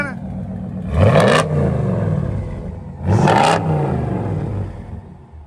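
A 2016 RAM 2500 with a 5.7 HEMI V8 idling with a steady low rumble, then revved twice in short, loud bursts about two seconds apart, each sweeping up and settling back to idle.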